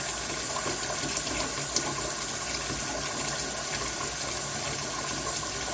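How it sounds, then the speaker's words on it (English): Tap water running steadily into a sink for hot-water wool scouring, a constant full rushing hiss with no pauses, close and fairly loud throughout. "I'm going to fill up the rest of the sink"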